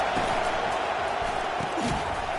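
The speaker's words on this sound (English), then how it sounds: "Listen to this crowd just shaking the girders of this place, trying to help their defense" A stadium crowd roars steadily in the college football video game NCAA 25, a thick continuous wall of cheering with no breaks throughout.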